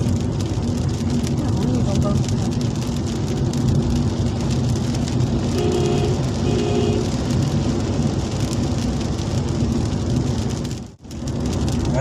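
Heavy rain falls on a car driving through flooded roads, a dense, steady drumming hiss mixed with road rumble. It carries on unbroken apart from a brief dip near the end.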